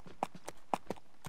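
Horse hooves clip-clop in Mount & Blade: Napoleonic Wars, a handful of quiet, irregularly spaced hoof strikes sounding alone.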